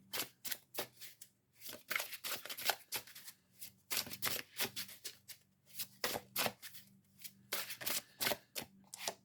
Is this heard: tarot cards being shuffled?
yes